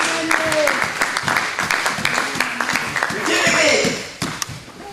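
A church congregation applauds and cheers, with scattered claps running under a loud voice speaking over the hall.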